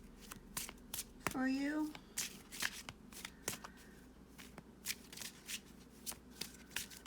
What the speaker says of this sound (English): I'm going to pull a love card